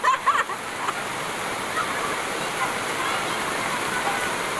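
Heavy rain pours down in a steady, dense wash with a few louder splashes at the start, close and continuous.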